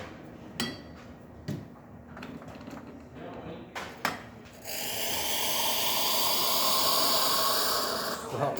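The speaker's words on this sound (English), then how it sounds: "You can hear it asking to replenish from the reservoir to the boiler." A freshly serviced Profitec espresso machine clicks and clatters, then settles into a long, steady hissing rush as the boiler refills from the reservoir, with a voice briefly heard near the start.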